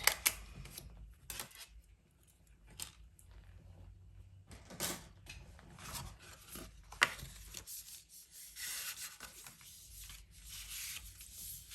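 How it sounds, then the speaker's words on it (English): Paper card stock being cut out by hand for an elegant two-way folding card, giving soft, intermittent rubbing and snipping strokes at close range, with scattered louder clicks and no talking. "So I'm just going to go and cut this out."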